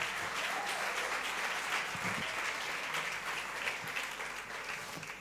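Church congregation applauding during a sermon, a steady, dense roll of clapping spread through a large room, fairly faint and slowly tapering.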